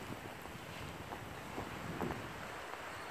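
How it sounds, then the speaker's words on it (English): Steady, strong wind roars and buffets the microphone outdoors, a continuous rushing noise with gusty swells and no talking. "it's very windy"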